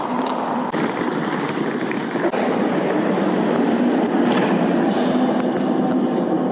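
A night train rumbles past steadily at a station with a broad, continuous roar and faint clattering, loud and close throughout with no pauses.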